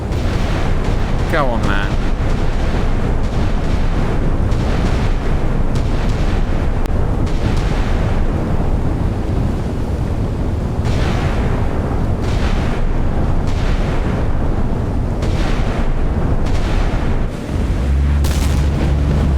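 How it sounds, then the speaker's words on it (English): Naval guns firing in the Sea Power naval tactical game, a dense run of repeated blasts and booms with sharp transients throughout, loud and constant, while players talk over the gunfire. "Can't stop me using my guns."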